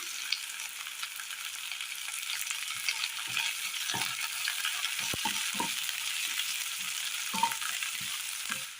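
Chopped green chilies frying with softened shallots in a pan for a curry, a steady soft sizzle with a few spoon stirs and light clinks, faint and continuous with no talking.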